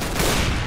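Dense, continuous automatic gunfire from the video game CS:GO fills the whole moment, loud and sustained like a rapid burst or overlapping volleys.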